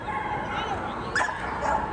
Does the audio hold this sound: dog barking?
yes